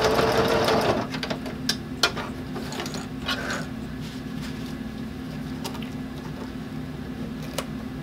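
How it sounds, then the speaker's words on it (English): Sewing machine stitching across and back stitching on a bag handle cover, a close mechanical hum that rises briefly at first and then settles into a steady run with faint ticks. "I'm going to stitch across my stitching line and back stitch a couple of times."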